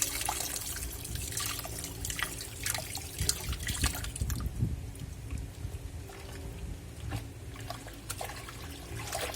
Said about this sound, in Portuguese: Ela vai corrigir o nível de água